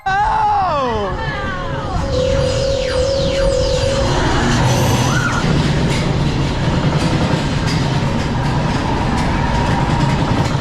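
The Space Mountain roller coaster at Magic Kingdom rumbles loudly and continuously, with rising and falling mechanical whines and squeals over dense clattering noise. Voices can be heard over the ride.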